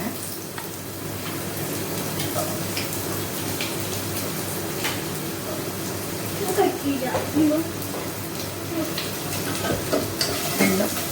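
Small chopped onions fry in a pan toward golden, a continuous close sizzle with a spoon scraping and stirring through it, louder bursts of stirring later on, with occasional speech over the cooking.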